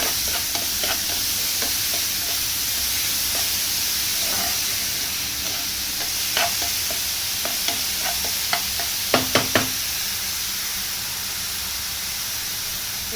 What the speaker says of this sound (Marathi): कांदा पण एकदम बारीक कापला, म्हणजे त्याला चांगला आता सॉफ्ट करून घ्यायचा तेलामध्ये